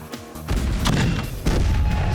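A cannon fires with a heavy boom, followed by a sustained roaring rumble and a second blast, loud and close with no voices.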